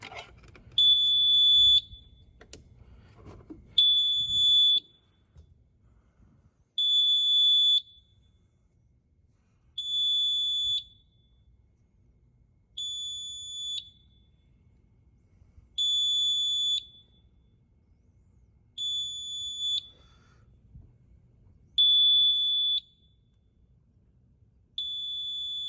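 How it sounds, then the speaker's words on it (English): A school fire alarm system sounds in evenly spaced bursts of high electronic tones, about ten of them, each around a second long and separated by pauses with a low background hum. "Now I'm going to short it out to make sure it puts the main fire alarm system into alarm."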